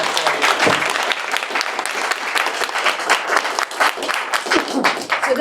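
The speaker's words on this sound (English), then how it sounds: "I'll just take a moment to give a round of applause to that." An audience claps warmly at a medical cannabis conference panel: dense, continuous applause from many hands, loud and close, sustained for several seconds without a break.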